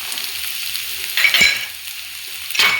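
Vegetables such as beans, carrots, peas and sweet corn fry and are stirred in a pan for ragi soup, giving a steady soft sizzle with two brief louder scraping stirs, with no talking.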